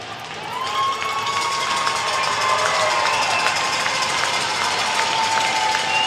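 An arena crowd at a U15AA Alberta provincial hockey championship gold medal game keeps up a steady, loud roar of cheering, with a sustained high tone running through it.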